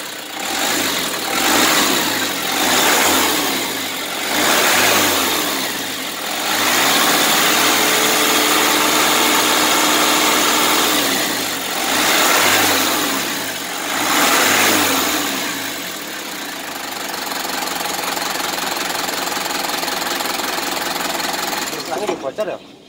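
A Mitsubishi Canter PS 135 truck engine with a newly fitted turbo revs up and down in repeated rising and falling swells, close and loud, with a whooshing turbo-like hiss over the engine drone.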